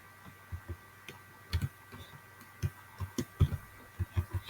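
Quiet, irregular clicks of keys being tapped on a computer keyboard, soft and close, with a low hum in the background.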